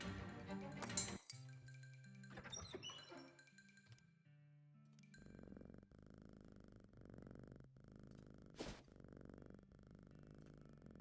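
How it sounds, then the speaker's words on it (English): A petted cat in Shadows Over Loathing, a comedic adventure game, gives a soft continuous purr in repeated pulses, mixed with bright chiming clinks and game music accents. "Very good cat noise."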